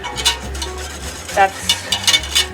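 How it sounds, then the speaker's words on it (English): Milk being whisked by hand for cheese making as an ingredient dissolves into it, giving soft repeated swishing and scraping strokes in an uneven rhythm, close and moderately loud, with no talking. "you should be able to hear whenever you're whisking it if it's dissolved or not"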